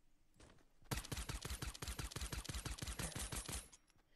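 Silenced pistol fire in a video game, a rapid, evenly spaced series of sharp suppressed shots that starts abruptly after a faint lead-in and continues for about three seconds before stopping, clear and isolated.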